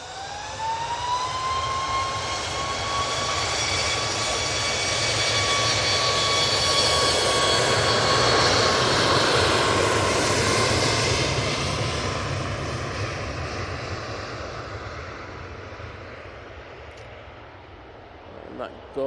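A Boeing 737 MAX 8 jet takes off from Manchester Airport bound for Larnaca, its engine roar swelling steadily and holding loud and broad before fading slightly, with a faint whine on top and a voice talking over it.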